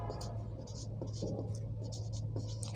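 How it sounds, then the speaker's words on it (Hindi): Pen scratching on paper during a Class 7 maths lesson, a steady run of short strokes over a low constant hum, with intermittent teacher speech nearby. "इसको भी लिख लेते हैं यहाँ पे"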